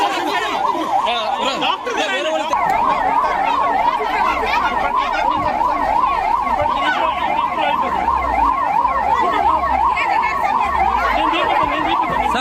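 An ambulance siren wails continuously and loudly in its rising-and-falling pattern at the scene of a stampede at a Venkateshwara temple, with crowd chatter and voices underneath throughout.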